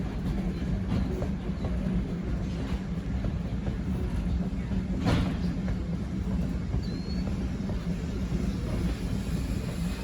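A Chicago CTA train passes by in summer, giving a steady, loud rolling rumble that holds for the whole stretch, with faint rail clatter above it and no voices.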